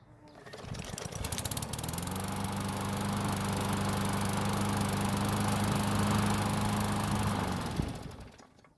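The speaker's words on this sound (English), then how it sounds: "Next we'll see if it starts up when it's hot." A Craftsman lawn mower engine, hot after running, starts with one pull and idles steadily at close range for several seconds before shutting off and winding down.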